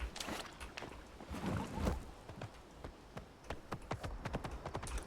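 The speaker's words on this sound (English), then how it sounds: "Oh, I can get on my horse again." Horse hooves clip-clop in a video game as the rider mounts and moves off, a quick run of close, sharp rhythmic clops that pick up pace toward the end, with no talking.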